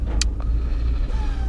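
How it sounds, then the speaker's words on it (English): A car with faulty crankshaft and throttle pedal sensors runs at idle, heard as a steady low rumble close to the listener, with a few faint higher clicks over the top. "I'll start her up. The car's running now."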